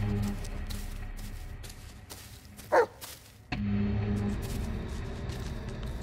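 A dog barks in a dark forest in the Blair Witch video game, a short loud burst near the middle over a low rumbling ambient bed, followed by a sudden shift in the background drone.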